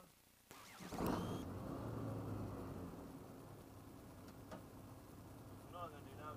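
A light aircraft engine is run up while the plane is repositioned, a sudden start followed by a steady droning rumble with some whine, moderately loud inside the cabin.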